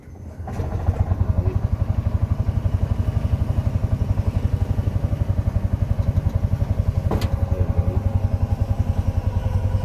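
Tuk-tuk tricycle engine idling with a rapid, even chugging pulse as the throttle is worked, close and loud and steady throughout.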